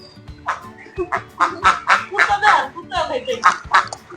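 Several ducks quack in quick bursts, a busy run of nasal calls close by, with a voice talking in the background.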